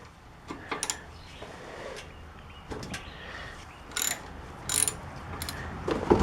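A 9/16 socket ratchet works the oil drain plug on a Harley-Davidson Softail, giving a few short bursts of close, crisp pawl clicking separated by quiet pauses, with no talk.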